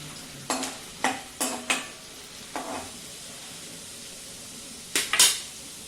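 Peanuts for a puffed-rice chivda fry in oil in a pan, with a spoon scraping and stirring in several sharp, spaced strokes over a soft steady sizzle, close by.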